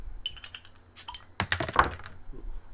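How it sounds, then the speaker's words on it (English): Cap popped off a bottle of Brasserie Lefebvre Barbãr Belgian beer, a few sharp metallic clicks and a clear snap close by, with no talking. "Let's go ahead and pop the top here."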